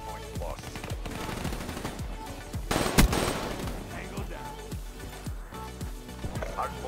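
Rapid automatic gunfire in the video game Call of Duty, repeated bursts of shots with one loud blast in the middle, under faint player speech.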